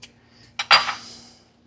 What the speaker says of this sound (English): I'm going to cut it in quarters